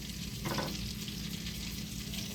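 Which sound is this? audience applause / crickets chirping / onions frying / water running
onions frying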